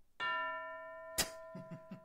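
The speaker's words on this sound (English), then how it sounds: "And if you just heard that is something that we have newly installed. It's called the hypocrite bell." A studio bell sound effect used on a talk show, a single bright ding-dong chime ringing out and decaying, followed by a few softer knocks; quiet and alone.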